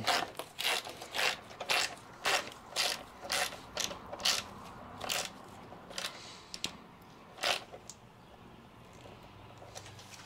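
Screws being tightened during a Ryker 3D LED headlight install, a run of rapid ratchet clicks in repeated short bursts, close and fairly crisp, with brief pauses between turns.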